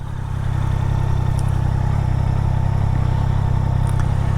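A 2024 Triumph Daytona 660 motorcycle engine pulls hard at high revs, a loud, steady, sustained drone close to the listener with no talk.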